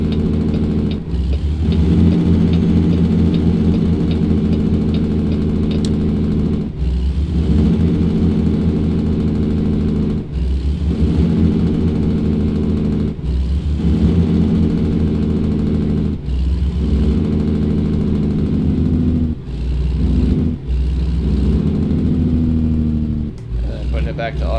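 A truck engine drones steadily in a driving video game near an Oklahoma way station, dropping through a series of downshifts with brief dips in the hum every few seconds.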